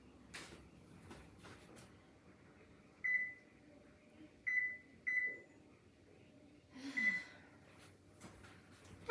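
A home kitchen oven's control panel beeps four times in short, spaced tones as its temperature is raised. The beeps are close and clear over faint room noise and light handling sounds.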